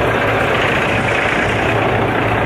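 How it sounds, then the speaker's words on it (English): A camper truck's engine idles steadily after starting, a loud, constant low rumble close by with no breaks, at a campsite among trees. "truck has started."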